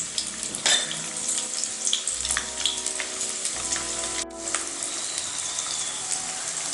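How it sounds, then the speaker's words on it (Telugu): Onions, cumin and mustard seeds sizzling in hot oil for a Telugu mirchi ka salan curry, a steady close crackle with brief stirring clatters and no talking. "సో ఆనియన్స్ లైట్గా ఫ్రై అయ్యాయి కదా."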